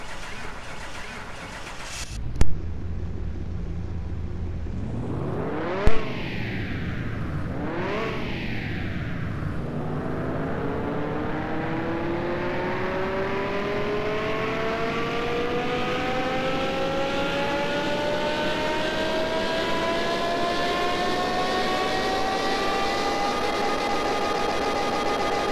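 A Porsche Carrera GT V10 engine in a car-mechanic simulator, revved on a dyno: a couple of sharp blips, then a long sustained climb in pitch holding near the limit, loud and close.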